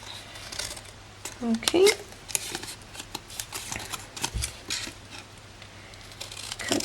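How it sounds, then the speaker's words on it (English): Scissors snip notches into paper cardstock for a gift box, several short crisp cuts in quick succession close up, with a person talking briefly over them. "notch out, and then cut across like that"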